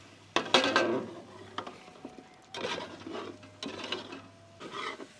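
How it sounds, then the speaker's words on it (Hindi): Mutton pieces roasting with spices in a pot for yakhni pulao, with bursts of scraping and stirring against the metal separated by short pauses and a low steady hum underneath. "अब 3 से 4 मिनट अच्छे तरीके से हम गोश्त की भुनाई करेंगे मसालों के साथ"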